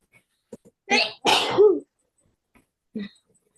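A single sharp sneeze, two quick bursts close to the listener, then quiet with faint breaths, in a quiet room during a lesson.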